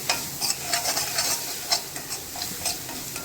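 Semolina and grated coconut roasting in ghee for Chettinad ukkarai, stirred in a pan with repeated soft scraping strokes over a steady gentle sizzle, close and clear, no voices.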